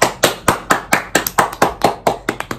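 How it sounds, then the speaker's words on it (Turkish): Hands clap close up in a quick, slightly uneven run of about a dozen sharp claps. "Alkışla bakayım teyze."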